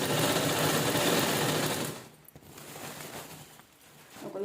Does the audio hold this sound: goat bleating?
no